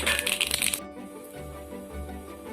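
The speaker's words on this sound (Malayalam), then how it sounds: "ഒരു അര സ്പൂൺ കടുക് ആഡ് ചെയ്ത് കൊടുത്തിട്ടുണ്ട്" Mustard seeds splutter in hot oil in a small pan with a dense burst of sharp pops and crackles at the start. The popping then dies away to a quiet background hum.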